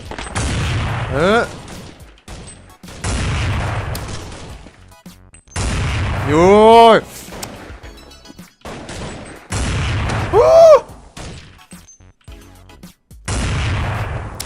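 Bursts of video game gunfire on a multiplayer server, several volleys of rapid shots a few seconds apart with sharp booms, heard close under casual chatter and exclamations from players.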